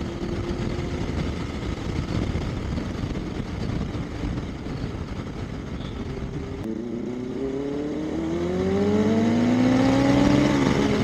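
Exhaust of a Benelli 600i and a Dominar 400 motorcycle on a Sunday group ride, a steady loud engine drone that rises into a climbing, revving roar near the end.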